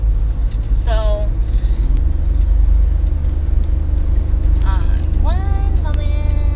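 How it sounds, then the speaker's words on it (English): A car drives on a highway with a loud, steady low road and engine rumble throughout, while a person talks over it in short bursts. "I am driving, and I am just got on the highway."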